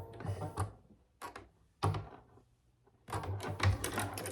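Sewing machine stitching rows on a fabric wallet: close, rapid mechanical chattering in several bursts, with short pauses between them and a longer final run.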